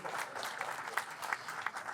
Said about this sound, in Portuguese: uma salva de palmas de novo para a doutora Luciana